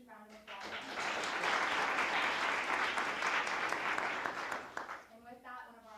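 Audience applause for two finalists at a closing-argument competition final, a dense, steady burst of clapping that rises quickly, holds loud for about four seconds and fades near the end.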